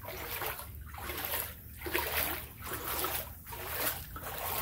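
Feet in shoes sloshing through deep flood water inside a flooding house, a series of heavy rhythmic splashes with each step, close and loud, with no talking.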